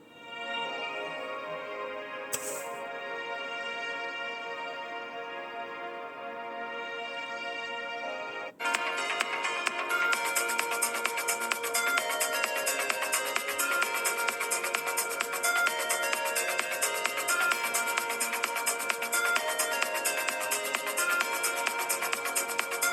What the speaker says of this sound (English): let's check how loud the phone is actually